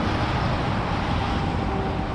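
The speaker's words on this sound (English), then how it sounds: "There's some truck noise here." Steady broadband roar of passing truck traffic beside a roadside park in Kansas, a continuous low rumble with wind buffeting throughout and no distinct individual passes.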